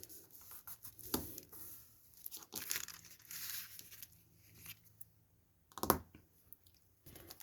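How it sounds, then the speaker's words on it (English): Paper is snipped and folded for a snow-themed craft, with soft crinkling, rustling and a few sharper snips coming in quiet, intermittent bursts close by. "So I'm going to do a little cut just there. And fold that up."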